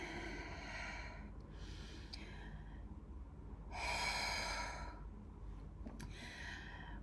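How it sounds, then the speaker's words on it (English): A deep, slow breath drawn in and let out, heard as soft airy rushes close to the ear over a low background hum, with no talking. "And with a deep breath,"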